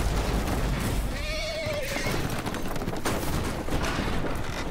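A horse neighs in a video game, one clear rising-and-falling whinny in the middle, set against a busy backdrop of gunfire and commotion that continues before and after.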